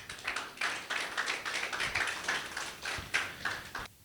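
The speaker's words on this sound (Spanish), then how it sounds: "Dale un aplauso a Jesús." A church congregation claps along together, a steady run of crisp, fairly quiet handclaps with uneven rhythm over about four seconds, with no voices on top.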